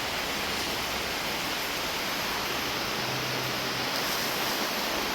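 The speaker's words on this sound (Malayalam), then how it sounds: "നല്ല മഴ." Heavy rain pours steadily, a dense continuous hiss of rainfall filling the whole stretch with no voices, loud and even throughout.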